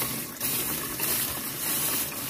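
Spring water runs and splashes steadily close by on a rural farm as some is collected, a continuous rushing gush with no talking.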